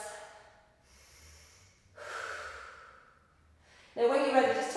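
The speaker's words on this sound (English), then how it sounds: "Couple more breaths." Slow, deep breaths during a Pilates exercise at home, soft drawn-out inhales and exhales close to the microphone, ending with a louder, fuller exhale.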